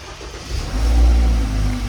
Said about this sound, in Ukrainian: Тачка завелася вже успіх.